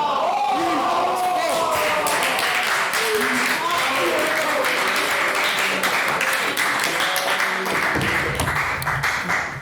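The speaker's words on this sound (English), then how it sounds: "Mr. Alkan McSparron just dropped his cup of juice. Everyone clapped." An audience bursts into loud, sustained applause at a debate after a cup of juice is dropped, with dense clapping and some crowd noise throughout.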